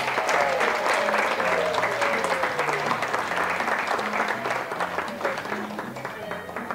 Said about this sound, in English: Please give a round of applause for Maylee Rhodes.